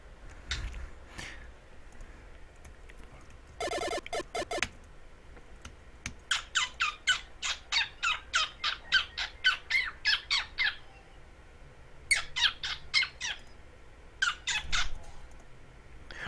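Bird squawk sound effects from the Zelda Classic quest The Realm of Courage: a rapid run of sharp, chirpy electronic squawks in the middle, with a few isolated squawks before and after, fairly close and clear, with no talking.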